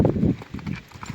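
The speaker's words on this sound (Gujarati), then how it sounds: "આ છે શિવાનો બાપ, મારવાડી પોઈન્ટનો ઘોડો છે, 61+નું બજું હોય." A Marwari stallion's hooves clip-clop at close range, a few quick irregular thuds on hard ground within about a second, with no talking.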